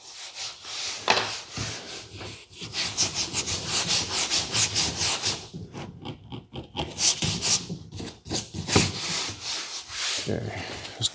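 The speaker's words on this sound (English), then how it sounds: "I'm just using one of those automotive trim removal tools with a very blunt end to get this in." A blunt automotive trim removal tool pushes upholstery into a custom interior panel for a 1940 Ford. Close, steady rubbing and scraping strokes continue for about eleven seconds, with brief pauses between bursts of friction.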